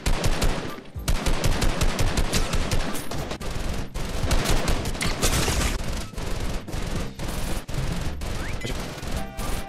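Rapid bursts of automatic assault rifle fire in the video game Fortnite crackle loudly and almost continuously, sharp repeated shots with brief gaps between volleys, close and intense.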